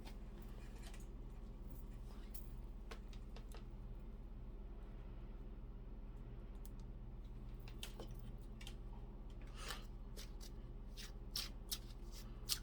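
Tarot cards being shuffled by hand, a steady soft riffling and slapping through the whole stretch with a few sharper card snaps near the end, over a low constant hum.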